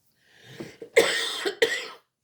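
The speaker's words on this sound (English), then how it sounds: "Sorry about the coughing." A person coughs two harsh, raspy times close up, preceded by a softer throat-clearing hack.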